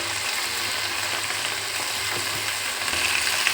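Cut okra pieces hitting hot oil in a pan give a steady, broad sizzle that holds even throughout and swells slightly at the end, with no talking.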